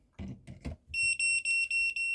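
A few soft clicks and taps, then a high-pitched multimeter continuity-test beep pulsing rapidly and steadily, close and fairly loud, while testing a kitchen stove's fuses.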